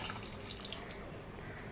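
Tamarind juice pours into a pan of crab curry, a short steady splashing stream heard up close with no voices.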